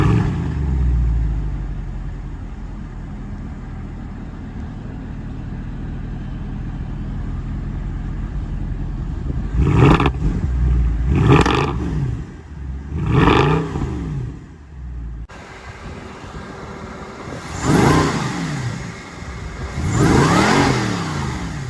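A Kleemann supercharged Mercedes C63 AMG 507 Edition with a big V8 idles with a deep rumble, then gives several loud revving pulls, rising and falling as it accelerates hard. The roar fills the cabin with no talk over it.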